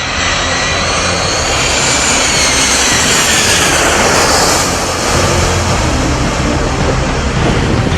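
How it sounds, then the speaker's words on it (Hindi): A jet airliner at an airport beside the sea gives off an ear-splitting roar of jet engines, a continuous, very loud and close broadband blast that holds steady throughout without any talking. "कानफाड़ू जेट के इंजन की आवाज भी सैलानियों को बहुत पसंद आती है।"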